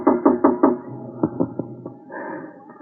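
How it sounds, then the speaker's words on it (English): Knocking on a door, a quick run of four firm raps followed by several slower, sharper knocks, close and clear against a quiet background, with a low hum near the end. "There was a knock on my door."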